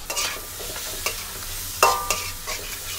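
Noodles with marinated pork and soy sauce stir-fry in a hot pan, a bright sizzle punctuated by quick metallic scrapes and clacks of the spatula, close and lively for a few seconds with no speech.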